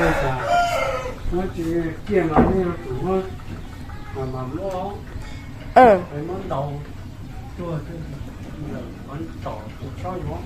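Chickens cluck and a rooster crows several times at a rural village home, close by, while people talk over the birds.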